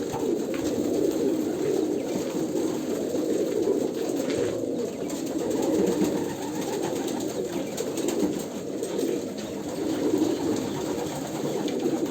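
Pigeons coo repeatedly at close range in a home loft, soft low throaty calls overlapping in a continuous murmur with no talking.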